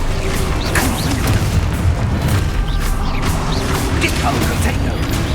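Confringo fire spell blasts in the video game Hogwarts Legacy, a dense, loud rumble of booms and crackling impacts running continuously through the whole stretch, with brief magical whooshes layered on top.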